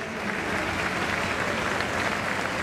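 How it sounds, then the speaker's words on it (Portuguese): A crowd at an Olympic test event for gymnastics applauds the finalists, dense and steady clapping from a large audience with no break. "Uma grande salva de palmas para os atletas finalistas"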